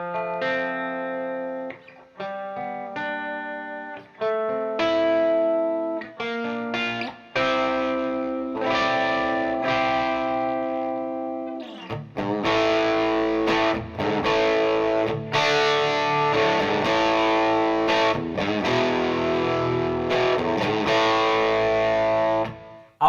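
A vintage 1963 Gibson ES-345 TD semi-hollow guitar on its bridge pickup through a Dr. Z amplifier plays sustained notes with a bright, biting tone, then shifts into louder, driven chords with gritty distortion.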